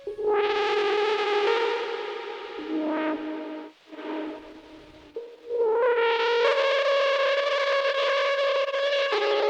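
Sustained guitar notes played through a lo-fi pedal with reverb, a gritty, distorted tone and a washy, lingering tail; the sound dips briefly midway, then swells back loud and steady.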